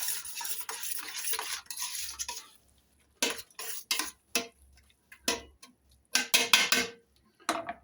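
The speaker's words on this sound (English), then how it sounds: "let's put the kidney beans in with chilli sauce. And we'll give it a stir" Spoon stirring kidney beans and chilli sauce in a pot, with scraping at first and then irregular metallic clinks and taps against the pan in short bursts separated by near silence, close and moderately loud, with no talk.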